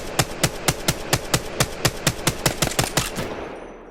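An Apex Legends gun fires on full auto, about fourteen loud, evenly spaced shots in a rapid rhythmic burst that ends with a short fading tail, with no talking.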